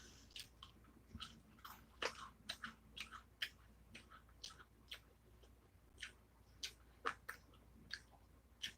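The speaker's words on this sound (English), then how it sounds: "You need some help chewing them graham?" Close, dry crunching and biting of graham crackers, with irregular crisp bites and chewing spread across the stretch, no talk.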